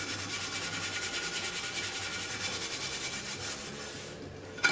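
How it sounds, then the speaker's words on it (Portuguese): A stained, colored cooking pan is scrubbed hard after water is applied, giving a rapid, rhythmic rasping rub that repeats evenly for several seconds before stopping abruptly, with no talk. "Você pode esfregar com a maior força do mundo."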